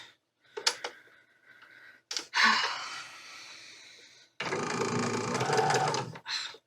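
A sewing machine stitches quilt seams together in short bursts, the longest run lasting about two seconds, with brief handling noises and breaths between, close up.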